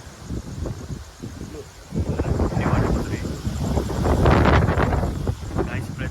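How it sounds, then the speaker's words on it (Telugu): Strong night wind gusts through trees, rushing and rumbling against the microphone in rising waves, with a person speaking over it. "ఫుల్ అంటే ఫుల్ గాలి వస్తుంది ఇంకా చూడు ఇక పైన చెట్లు కూడా ఎట్లా పోతున్నాయో"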